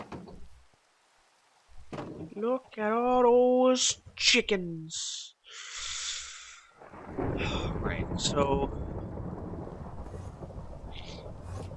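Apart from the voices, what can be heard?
rain and thunder in Minecraft SkyFactory video game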